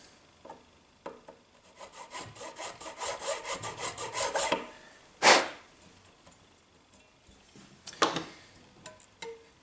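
A guitar nut slot is filed lower on a Tradition G10 Strat, giving a run of quick, close rasping strokes that builds in rhythm and then stops, followed by a few sharp clicks and taps of the tool.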